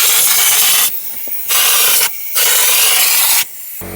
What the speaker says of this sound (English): So at the moment I've sprayed all in that arch, all up there, all up there, all in the shockies